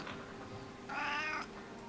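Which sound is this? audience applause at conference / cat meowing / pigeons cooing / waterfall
cat meowing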